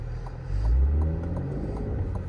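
Engine of a 2023 Cadillac CT5-V sports sedan heard from inside while driving, a deep, close low rumble that swells briefly as it accelerates, then settles into a steady drone.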